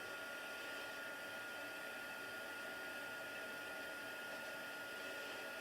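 A heat embossing tool blows hot air over a stamped card with a steady, even whooshing hum that holds unbroken throughout, faint and alone.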